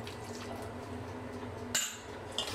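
Water poured into chiffon cake batter that already holds olive oil: a soft, steady liquid splashing and trickling, fairly close, with a brief brighter splash near the end.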